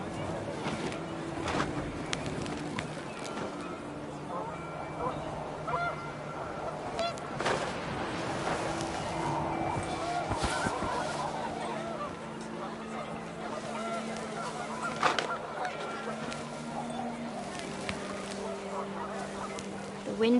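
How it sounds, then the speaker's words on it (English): A flock of panicked geese in What Remains of Edith Finch honks continuously amid gusting wind, a dense, busy clamor of overlapping calls that stays fairly loud throughout. "The wind picked up, and panicked geese appeared and quickly went."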